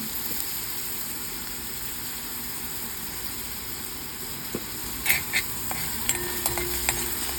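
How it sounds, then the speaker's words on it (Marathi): Chopped onion sautéing with asafoetida and turmeric in a pan, a steady soft sizzle throughout with a few light stirring clinks near the end. "आणि त्यातच आता बारीक चिरलेला कांदा घालायचा कांदासुद्धा परतून घ्यायचा चांगला त्याच्यामध्ये हिंग हळद घातली"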